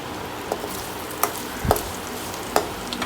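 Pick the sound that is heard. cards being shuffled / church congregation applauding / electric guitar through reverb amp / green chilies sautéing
green chilies sautéing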